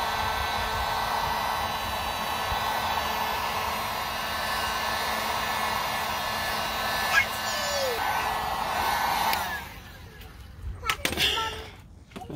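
A heat gun blows hot air onto vinyl wrap on the B-pillar of a Toyota Tacoma, a loud steady whir that holds for about nine seconds, then cuts out, leaving a few thumps and handling noises.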